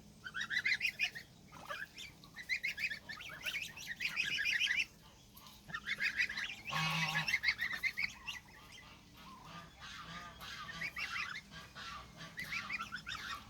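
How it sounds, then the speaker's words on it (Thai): A flock of young geese calling nonstop, with high, squeaky honks and peeps overlapping close by. "นี่เป็นลูกห่านอยู่นะคะ ดูเสียงสิ"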